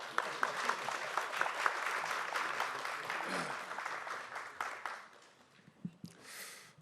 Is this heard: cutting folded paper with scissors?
no